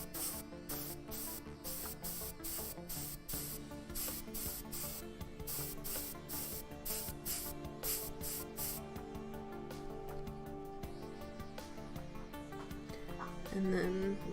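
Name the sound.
airbrush spraying paint during miniature priming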